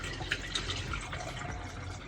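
Water pours and trickles into a cooking pot for broth inside a camper van kitchen, a steady close splashing fill with a few drips, no voices.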